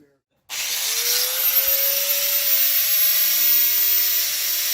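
A power grinder spins up and cuts notches into the radiator support of a 1979 Ford F-250 4x4, a loud continuous hissing grind with a rising whine as the tool reaches speed, close and steady without talk.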